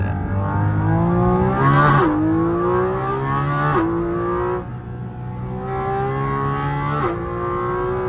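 A car engine fitted with carbon intake ducts revs hard and sharp, climbing through three aggressive pulls with brief drops between shifts, loud and close with no talk.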